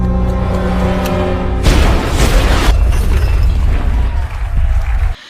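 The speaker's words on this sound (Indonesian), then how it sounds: "bom yang si ayah pasang di pabrik tadi siang baru saja meledak" A deep booming bomb blast at a factory erupts over a low steady hum, followed by rumbling and crackling debris that fades before an abrupt cutoff.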